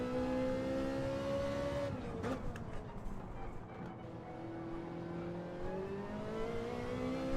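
Ferrari race car engine in a racing video game, a steady high-pitched drone that dips and rises as the revs drop and climb again after a brief rattly shift, with no talking.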